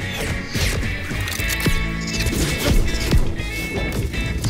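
Spaceship being smashed in a Stitch versus Rocket Raccoon Death Battle cartoon, a dense run of crashing, thudding impacts and clattering debris with a sustained hum underneath, loud and close.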